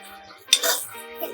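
A metal utensil clinks and scrapes in a pan while chicken pulao with basmati rice is mixed, one sharp clink followed by a short rustling stir, close by.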